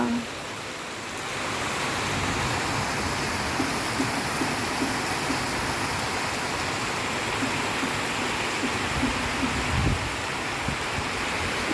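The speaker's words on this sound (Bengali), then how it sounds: "দেখো ঢাকাতে এখন রহমতের বৃষ্টি শুরু হয়েছে" A dense, steady roar of heavy rain in Dhaka starts after a brief quieter moment and keeps pouring close and loud without a break, with only a few faint knocks beneath it.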